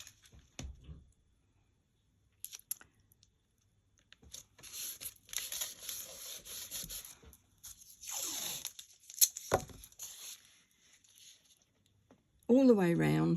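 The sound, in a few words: applying stencil tape to card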